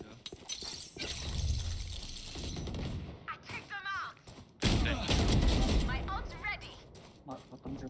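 Gunfire in the shooter Valorant, a loud burst of rapid shots over busy game noise, with a second heavy burst midway and a voice talking between them.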